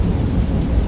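Rain pours steadily over a city at night, a dense low rumble of downpour with thunder rolling beneath it, continuous and close throughout, no voices.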